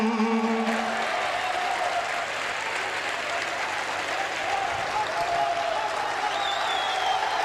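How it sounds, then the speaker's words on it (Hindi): An audience at a poetry recital (a mushaira) claps in sustained, even applause from start to finish, with some crowd murmur mixed in. "ये ताली 43 मिनट नहीं 72वीं आजादी है, 72 सेकंड बजनी चाहिए"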